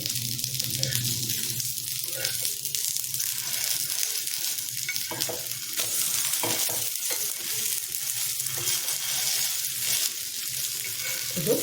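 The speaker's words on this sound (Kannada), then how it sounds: "ಸಣ್ಣ ಉರಿಲಿ ನಿಧಾನಕ್ಕೆ ರೋಸ್ಟ್ ಮಾಡ್ಕೊಬೇಕು" A stuffed snack roasts slowly in oil over a low flame, oil both under and on top, giving a steady, close, continuous sizzle with light crackle throughout and no voices.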